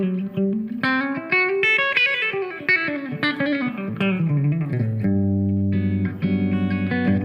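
A James Collins Redwood GTO electric guitar played on its bridge pickup through effects, a melodic run of clean, chorused notes rising and falling, then sustained ringing chords near the end, alone without talk.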